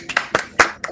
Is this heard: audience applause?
yes